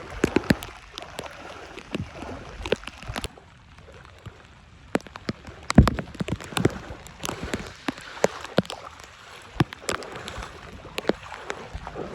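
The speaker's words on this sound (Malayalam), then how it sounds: "നല്ല മഴ," Heavy rain falls on floodwater in Kerala, a soft continuous patter broken by many close, sharp drip and splash knocks scattered irregularly throughout.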